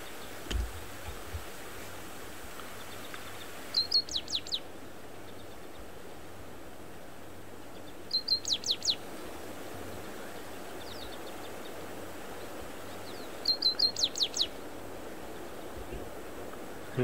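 A wild bird on a safari live stream calls in three brief, high chirping bursts spaced several seconds apart. The calls are faint and distant over a steady outdoor hiss.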